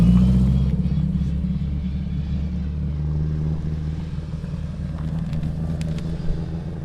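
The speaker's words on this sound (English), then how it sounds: "As the next car comes to the finish control, and here we have the Datsun 1200." A Datsun 1200 rally car pulls into the finish control of a gravel special stage at the Otago Rally, its engine a steady low rumble that drones continuously at close range with no voices.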